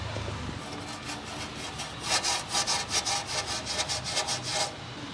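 A Scotch-Brite pad scrubs surface corrosion off a part of a Ducati SuperSport 939 motorcycle, first as a low steady rubbing and then as a brisk, rhythmic back-and-forth scouring, close and fairly loud.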